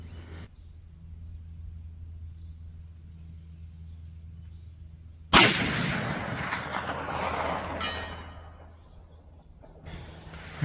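A single .450 Bushmaster rifle shot cracks out on an open range, followed by a long rolling echo and rumble that fades, with quiet wind noise before and after.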